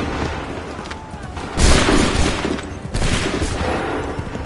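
Musket volleys in Assassin's Creed III, two loud ragged bursts of massed gunfire about a second apart, rising over a busy battlefield din.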